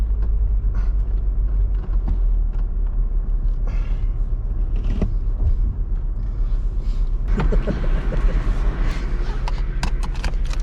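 A Holden wagon rumbles along an off-road desert track at speed, a steady engine drone with bumps and rattles from the rough ground, heard alone without talk.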